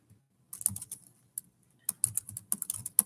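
Quiet, close keyboard typing, with short clusters of rapid key clicks separated by brief pauses.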